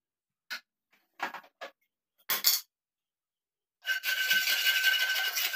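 A cast iron kadai being scrubbed with salt gives a few short gritty rasps, then a sustained loud scraping run with a metallic ring, close up and without talk.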